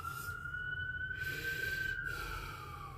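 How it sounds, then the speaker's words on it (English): A faint, steady siren tone wails in the distance, holding a high pitch under a low rumbling background. "Mind the sirens."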